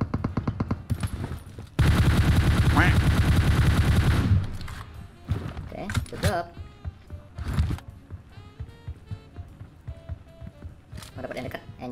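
Gunfire in the mobile shooter PUBG Mobile, a dense burst of rapid automatic shots lasting a couple of seconds, followed by scattered single shots and a voice talking over the game.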